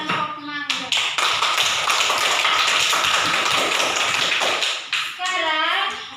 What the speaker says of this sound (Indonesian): berikan aplaus untuk kelompok mangga